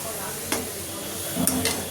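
Luchi frying in hot mustard oil in a pan, a steady close sizzle and bubbling with a couple of sharper crackles and utensil clicks.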